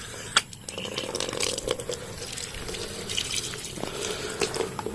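A tap runs for rinsing, a faint steady trickle of water with small splashes and drips throughout.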